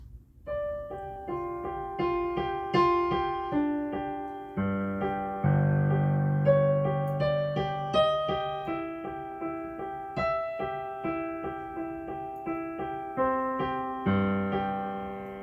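Piano playing a piece from the Pride and Prejudice score with both hands, a steady flowing stream of close, clear notes over sustained low bass tones, with no talking.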